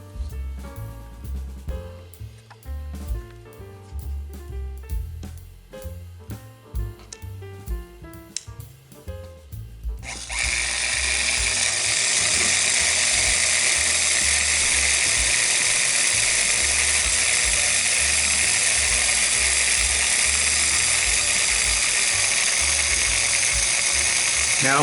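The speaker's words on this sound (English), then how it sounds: "So I'm going to plug this mixer in." A Sunbeam Mixmaster mixer's motor switches on partway through and runs as a loud, steady whirring hum, after a stretch of clicking, ratcheting mechanical adjustment sounds.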